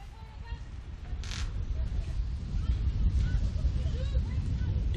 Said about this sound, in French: Et le vent qui souffle de plus en plus fort, je ne sais pas si vous l'entendez dans mon micro